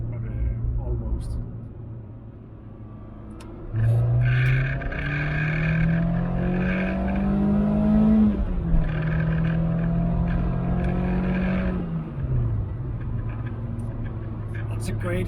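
A British Leyland hot hatch engine revs up and climbs through the gears as it accelerates hard to overtake, a loud rising drone with a brief dip before pulling again.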